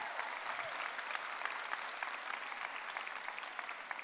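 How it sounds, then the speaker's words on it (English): Graduates and guests at a university convocation ceremony applaud in a dense, continuous wash of clapping, moderately distant and sustained without pause. "let's give them a round of applause"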